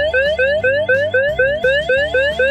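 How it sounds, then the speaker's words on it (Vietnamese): A GSK-A7/A8 wired security alarm panel's siren under test, sounding a loud repeating electronic whoop that sweeps upward about every quarter second, steady and close throughout with no talk. "Ở đây thì mình sẽ test báo động cho các bạn xem."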